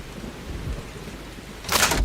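Rain falls steadily with a low rumble of thunder, then a sudden loud crack of thunder bursts near the end, close and sharp over the continuing downpour.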